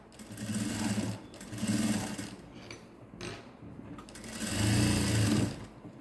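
A sewing machine stitches a fancy saree blouse in bursts of steady whirring and clatter, close and fairly loud, with short pauses between runs and a longer, heavier run near the end.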